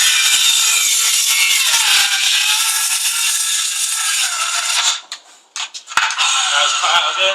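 Milwaukee CCS66 cordless circular saw with a faulty brake, running at a loud steady high whine that abruptly cuts out near the end, then briefly sputters back with a few uneven bursts.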